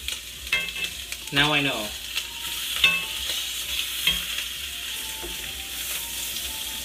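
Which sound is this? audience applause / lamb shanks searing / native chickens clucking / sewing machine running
lamb shanks searing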